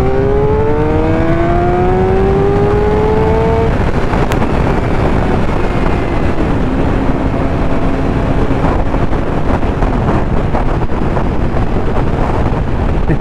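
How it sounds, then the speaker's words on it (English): Strong wind roars against a rider's helmet during a motorcycle ride, loud and constant throughout, with an engine tone rising then settling underneath; no speech. "So a really windy day today"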